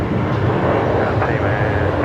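Qantas airliner departing Brisbane Airport, a steady broadband engine roar filling the whole clip, with air traffic control chatter over it.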